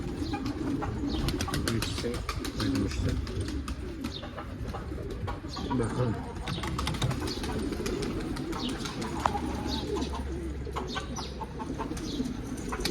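Pigeons coo softly over a rustling, busy background, with a brief murmured word partway through.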